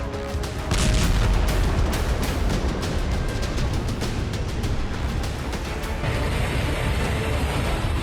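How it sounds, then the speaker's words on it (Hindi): A plane crash in South Korea, with the aircraft skidding into an airport wall and exploding: a dense, loud roar of booming, crackling blasts that runs continuously and swells again toward the end. "प्लेन घिसटता हुआ एयरपोर्ट की दीवार से टकराया, जिसके बाद प्लेन में धमाका हुआ।"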